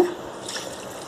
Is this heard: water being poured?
yes